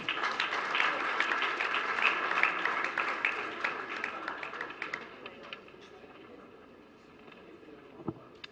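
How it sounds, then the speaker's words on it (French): Audience applause at a Haitian digital awards ceremony for Haïti Numérique 2030, a dense crackling wash of clapping that is fairly loud at first, then thins and fades to quiet near the end. "je vous demande d'applaudir"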